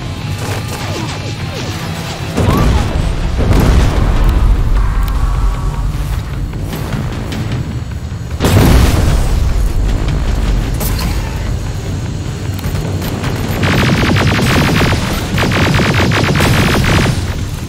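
Grenades exploding in the video game Terminator Resistance, with several loud, heavy blasts bursting out of a dense, continuous din of battle and mechanical noise.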